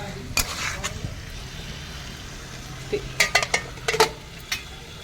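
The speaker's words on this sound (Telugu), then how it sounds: "ఇప్పుడు మూత పెట్టేసుకోండి" A lid goes onto a pot of raw fish curry made with tamarind, heard as a quick cluster of close metallic clinks and clanks after scattered stirring knocks over a light simmering sizzle.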